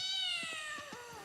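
A cat gives several short meows in quick succession, clear and fairly close, with no voices over it.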